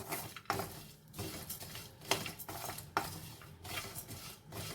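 Cashews, walnuts and seeds dry roasting in a pan, tumbled around continuously with a utensil, giving a busy rattling scrape with repeated clacks against the pan, close up and without talk.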